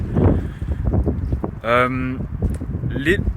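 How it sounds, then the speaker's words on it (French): Rumbling wind buffets the microphone in gusts while a person speaks over it. "Désolé pour le vent, et puis on s'en fout, c'est la nature"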